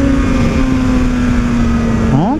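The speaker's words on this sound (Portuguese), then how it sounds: "Acelerando forte, ó. E a moto dele ronca, viu?" A Honda CBR 310 motorcycle engine held at a loud, steady high-rpm drone that rises sharply again near the end, heard close and continuous.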